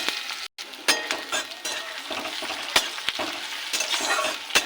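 Chopped onion and slit green chillies fry in hot oil after a cumin tempering, a continuous close sizzle punctuated by sharp spatula scrapes and clinks against the pan, with no one speaking.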